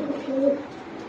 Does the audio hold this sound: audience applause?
no